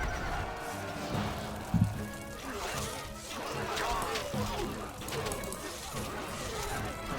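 Horse neighing and whinnying amid the clamor of a medieval strategy game battle with horse archers, a short louder burst near the two-second mark over constant busy game sound and occasional hoof clatter, with speech running over it.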